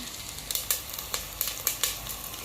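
Vadagam frying in hot oil in a pan, a steady close sizzle with small crackling pops and soft scraping bursts repeating every fraction of a second.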